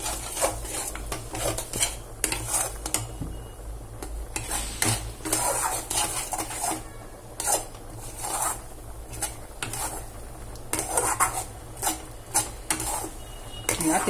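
Sesame seeds stirred in a pan while making sesame laddus, a steady scraping and rustling of a spoon against the pan with repeated strokes, close and moderately loud, with no talk.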